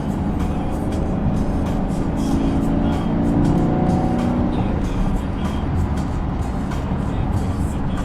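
A Chevrolet Camaro SS 1LE drives onto a freeway, its engine a steady low droning rumble with road and wind noise, rising slightly as it merges, close and continuous, with no talk.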